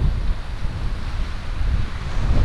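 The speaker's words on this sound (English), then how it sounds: "The waves crashing." Ocean waves wash against the Cape Cod Canal jetty in a continuous low rushing roar, mixed with gusty wind buffeting the microphone, with no voices.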